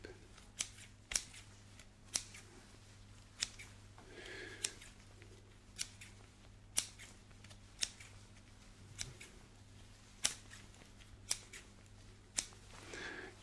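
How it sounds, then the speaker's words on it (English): Crisp, close scissor snips repeat at a steady, unhurried pace during an up-close ASMR face-exam roleplay, about a dozen sharp cuts over a quiet low hum with no voice. "So I'm just going to pull and snip and pull and snip"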